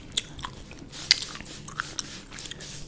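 Gum is chewed close to the microphone in a soft-spoken ASMR setting, with quiet wet smacks and sharp little clicks in an irregular rhythm over a hushed background.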